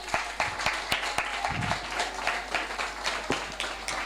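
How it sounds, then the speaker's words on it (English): Scattered audience clapping for Nishita at a literature festival session, fairly faint and sparse, individual claps standing out against a low steady hum. "Can we have a round of applause for Nishita?"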